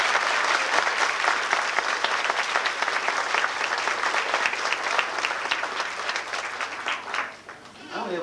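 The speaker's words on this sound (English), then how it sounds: "let's give our group of kids a big round of applause" An audience applauds preschool graduates at a graduation ceremony in Superior, Arizona, with dense sustained clapping that fades near the end as a voice begins to speak.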